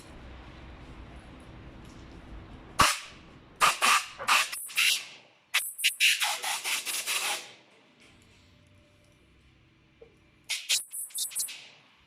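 Compressed air is blown onto the fuel injectors of a car engine in short, loud hissing blasts. The blasts come in clustered pulses, some separate and some rapid, with quiet gaps between them.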